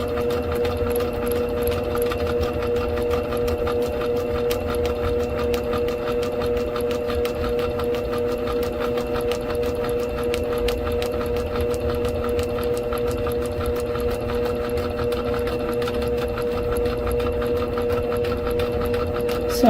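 A sewing machine runs continuously for stitching around an applique block, its steady motor hum and rapid needle clatter holding an even, unbroken rhythm close to the microphone with no voices.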